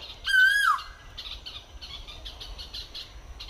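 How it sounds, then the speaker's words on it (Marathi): A single loud bird call, a drawn-out squawking whistle that bends downward, followed by softer repeated chirps in the background. "मंडळी, पक्षाचा आवाज बघा किती भारी येतोय"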